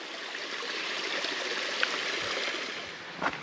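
A steady stream rushes and burbles continuously on its way to join a creek on the Flat Creek Loop, broadband water noise close by, with a couple of brief splashy accents near the end.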